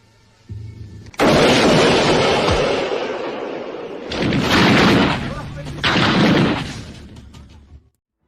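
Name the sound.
sniper rifle gunshot in film Sniper 1993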